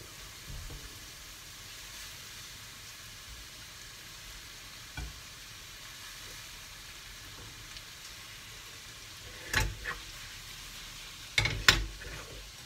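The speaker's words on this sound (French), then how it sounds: "je rajoute les saucisses et je les fais dorer de chaque côté" Sausages browning in a pan for a Far West-style beans and sausage dish: a faint, steady sizzle runs throughout, with a few sharp clatters near the end.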